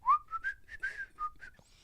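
Someone whistles a short, bright, wavering tune in a few quick notes and slides, close and clear with no other sound around it.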